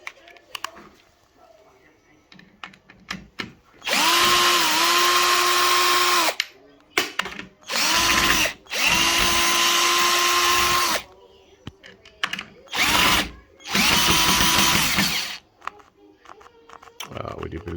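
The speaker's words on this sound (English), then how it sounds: "There, screwdriver." Cordless screwdriver driving screws into a door hinge: several whirring motor bursts of one to two seconds with steady pitch, separated by clicks and handling noise, close and loud.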